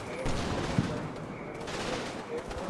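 Gunfire from the war game Combat Mission rattles in a dense, continuous crackle as bullets strike a house, with a few sharper individual shots standing out.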